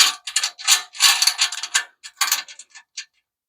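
Quick clicking of a hand ratchet tightening a nut on the front bumper of a Hemi Plymouth Duster: several fast bursts of close, crisp pawl clicks with short pauses, alone and with no voices.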